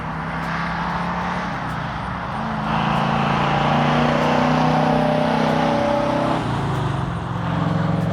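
Tri-power 1965 Pontiac GTO convertible with a 4-speed, engine rumbling steadily up close, rising in a strong rev around the middle before settling back to a loud idle.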